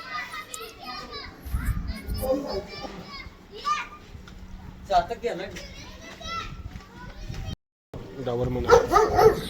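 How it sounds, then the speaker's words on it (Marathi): A dog barks a few times amid lively children's voices and chatter, the barks short and mid-distance, mixed under the talk. "मयुरेश कधी पुढे जातोय कधी मागे येतोय आणि दुसरं कुत्रं बघा तिला बघून भुका लागले"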